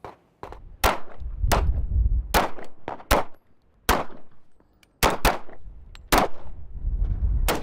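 Gunshots at an American shooting range, a series of loud, sharp reports fired at irregular intervals of about half a second to a second, each with a ringing, echoing tail, close and prominent.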